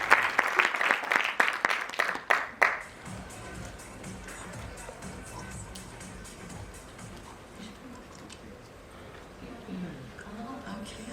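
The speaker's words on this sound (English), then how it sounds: "A round of applause," An audience at a business talk gives a brief burst of clapping that lasts under three seconds and stops abruptly, followed by quieter room sounds and murmuring voices.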